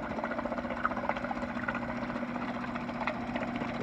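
A Suzuki 2.5 hp four-stroke outboard motor runs at a steady idle, giving a continuous, even engine hum with a slight rhythmic pulse throughout and no talking.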